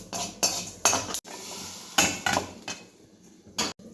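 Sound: stirring and dry-roasting melon seeds in a pan

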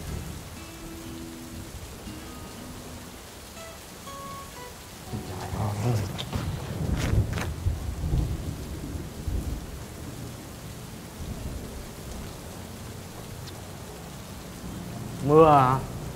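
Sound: heavy rain with thunder

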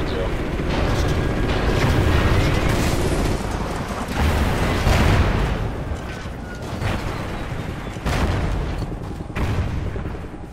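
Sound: enemy anti-aircraft fire in Call of Duty Ghosts video game

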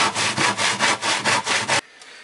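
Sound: hand saw sawing wood

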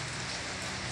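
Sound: early morning rain falling

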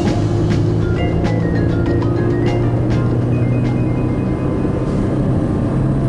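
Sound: Mercedes-Benz C200 W202 engine after downshifting

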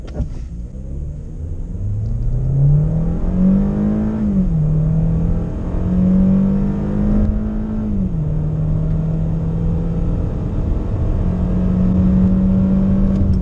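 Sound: car accelerating from 0 to 100

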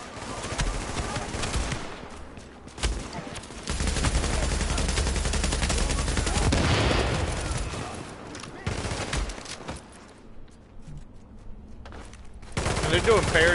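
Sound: gunfire from weapons in the video game The Division

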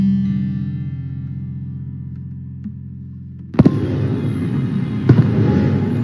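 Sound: fireworks in a cartoon

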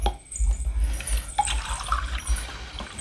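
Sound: drinking water being poured

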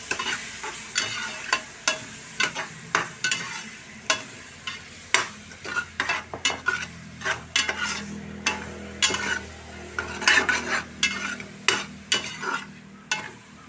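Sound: finely chopped tomatoes stirred into the cooker for pav bhaji

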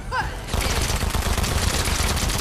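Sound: gunfire in the video game Fortnite

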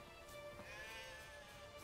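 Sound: sheep bleating in the video game The Witcher 3

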